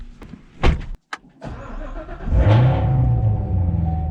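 A C7 Corvette is under way, its engine building from a quiet start into a steady, loud mid-range drone after a few brief clicks and thumps, alone without talk.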